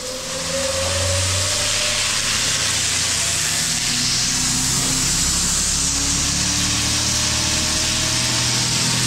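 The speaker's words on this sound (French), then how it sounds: "une fois que la trémie elle est pleine, donc là j'ai mes 325 kg de blé, j'allume le broyeur" A hammer mill grinder with a motor spinning hammers at high speed grinds 325 kg of wheat fed from a full hopper, starting up and then running as a loud, steady, dense roar with a low humming drone throughout.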